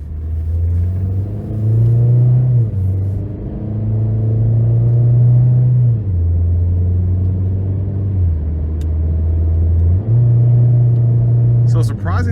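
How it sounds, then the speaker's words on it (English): A 2017 Chevrolet Sonic LS hatchback with a 1.8 engine and six-speed manual drives on the road, its engine droning steadily from inside the cabin and rising and falling through shifts over about twelve seconds. "So next we're gonna go ahead and take it out on the road for a quick test drive."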